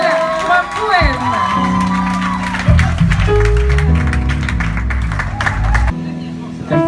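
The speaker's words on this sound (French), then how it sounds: "nous allons applaudir Axel Noël pour un poème" An audience at a slam poetry concert cheers, whoops and claps, loud and close. A voice talks over the crowd noise, and everything cuts off abruptly just before the end.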